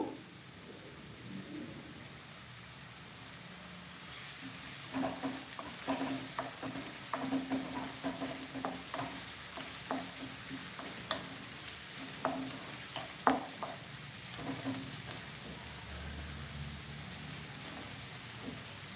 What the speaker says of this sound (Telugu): ఇది వేగుతూ ఉంటుంది